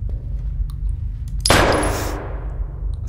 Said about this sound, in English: Ah, I can shoot.